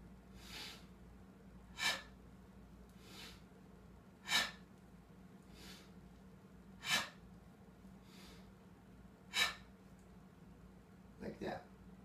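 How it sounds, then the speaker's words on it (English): Slow breathing during a Jikyojutsu movement exercise, with a sharp nasal sniff every two to three seconds, four or five regular close breaths and softer exhales between, over a low steady hum. "Inhale by your nose and exhale out by your mouth."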